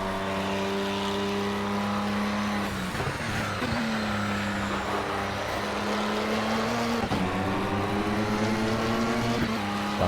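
An Aston Martin DBR1-2 race car engine drones loudly and steadily in the racing game Project CARS. Its pitch holds and dips at two gear shifts as it keeps pulling.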